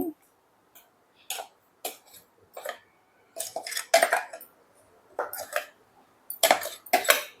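Sorghum flour and jaggery mixed by hand in a bowl, giving a string of short, irregular clinks and scrapes against the dish with quiet pauses between them, close and moderately loud, with no talking.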